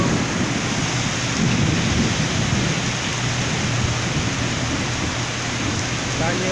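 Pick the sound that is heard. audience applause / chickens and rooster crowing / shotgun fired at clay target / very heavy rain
very heavy rain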